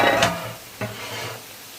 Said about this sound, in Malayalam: കുരുമുളകും കായവും ഇട്ടിട്ട് പെട്ടെന്ന് വേഗം ഇളക്കി കൊടുക്കണം.